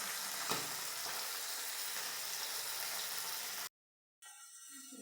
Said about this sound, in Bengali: মাছগুলো ভালো করে লাল লাল করে ভেজে নেব।